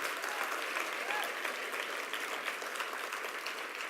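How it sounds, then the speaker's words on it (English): Audience at an awards ceremony gives a sustained round of applause, a steady, even wash of many hands clapping throughout, heard from a slight distance with faint crowd murmur beneath. "Can we have a round of applause for that, please?"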